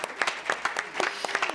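A seminar audience applauds a presenter after a talk on living better longer, with dense scattered hand claps at moderate distance throughout and no speech over it.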